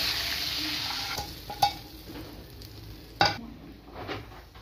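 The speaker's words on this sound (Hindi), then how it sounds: "इस गर्म घी के अंदर मैं जीरा डाला है" Cumin seeds sizzling in hot ghee for a kadhi tadka, a steady bright frying hiss with a few sharp clinks of a spoon or pan, no voices.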